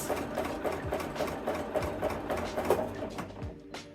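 A sewing machine runs steadily up close, stitching circular free motion quilting, a fast even needle rhythm with a mechanical hum that slows near the end.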